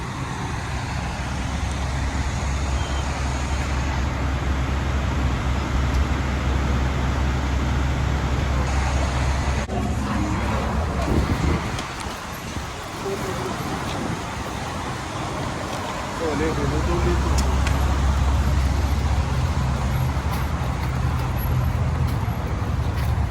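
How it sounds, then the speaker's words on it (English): Road traffic passing by outdoors, cars, trucks and buses rolling past in overlapping waves with a brief hiss like an air brake, steady and fairly loud with a quieter lull midway. "Double the traffic"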